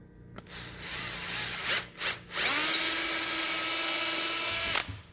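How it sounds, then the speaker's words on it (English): Power drill boring a hole through a fence post cap: after brief start-stop bursts, a loud steady high-pitched whine runs for about two and a half seconds, then cuts off sharply. "all I'm going to do is just drill a hole right through this"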